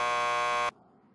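A police lockup door buzzer in the video game Max Payne 2 gives one loud, steady electronic buzz that cuts off abruptly, leaving faint room tone behind.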